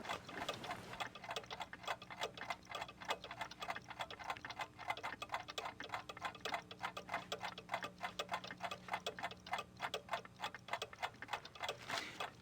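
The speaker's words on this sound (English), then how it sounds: "I'll take that woodpecker clock." In the Gabriel Knight 2 video game, a woodpecker clock ticks steadily in a fast, even rhythm of crisp ticks. The ticking is quiet and continuous throughout, with a low hum underneath and no speech.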